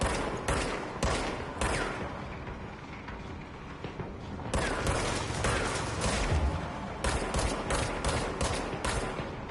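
Heavy gunfire in the video game Control: dense, loud volleys of rapid shots pile onto one another in near-continuous bursts, with a brief lull before the firing surges again.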